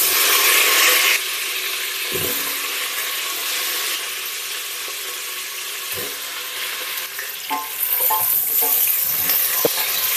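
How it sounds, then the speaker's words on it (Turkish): Chunks of potato, carrot and onion fry in hot oil with a bright sizzle while a utensil stirs them, scraping and knocking against the pot now and then; close and steady, no voices. "Sebzelerimi bir taraftan karıştırıyorum ve çok azıcık da tuz ekliyorum"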